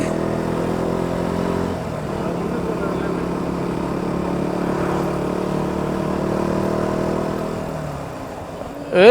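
Motorcycle engine running steadily on a trip near Mahiyangana and Batticaloa, a continuous mid-pitched drone under voices talking, with a brief revving rise at the very end.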